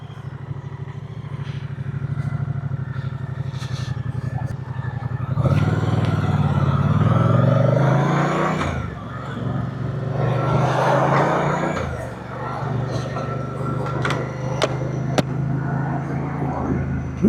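A Moto Guzzi Stelvio PFF motorcycle engine rumbles while being ridden, swelling as it pulls from low revs then easing off, steady and moderately loud, with wind noise mixed in.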